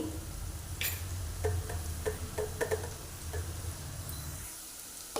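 Bay leaf, cumin and mustard seeds temper in hot oil for an egg curry. A soft, steady sizzle runs under a series of light ticks and pops, with a faint low hum in the background.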